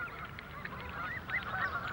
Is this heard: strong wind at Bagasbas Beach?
no